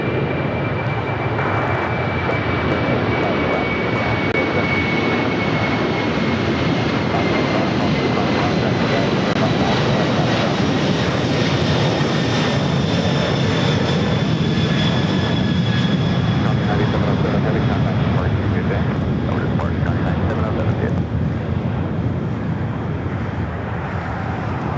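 At LAX, airliners power up for takeoff, a broad, continuous engine roar with a slowly shifting whine rising and fading over the runway, heard at moderate distance.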